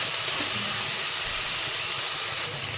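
Tempering spices sizzle and crackle in hot oil in a pan, a steady close hiss with no pauses, alone without talk, while cooking a dal with chukka greens and a shallot tamarind stew.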